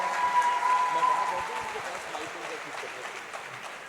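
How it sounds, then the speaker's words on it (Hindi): Sustained applause from a concert audience washes steadily through the whole clip, gradually tapering, with a faint tone at the start. "जितनी तालियां आपने अली के लिए बजाईं"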